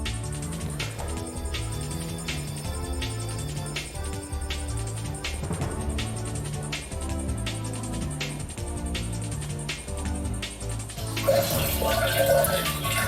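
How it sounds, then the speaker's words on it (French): A cheap homemade aquarium filter runs as its pump pushes water through tubing, giving a steady, fairly loud trickle and gurgle throughout, with a rougher rush of splashing near the end. "alors la pompe est en place, le tuyau est en place"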